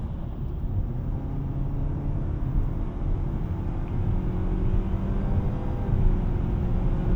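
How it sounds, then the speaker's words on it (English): Low steady engine rumble from a 2024 Nissan Sentra SR accelerating hard from about 30 mph, tones climbing as it runs through simulated gear shifts, heard from inside the car without talk. "listen to this car simulate shifts"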